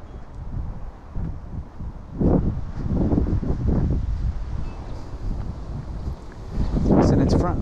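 Cold wind gusts outdoors on a walk, buffeting the microphone with loud rumbling surges that rise and fall, the strongest blasts near the middle and end.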